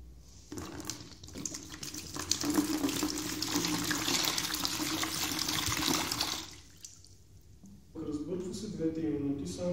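Water poured into a bucket to mix gypsum plaster: a loud, close, splashing stream that runs for several seconds, stops abruptly, and is followed by someone speaking.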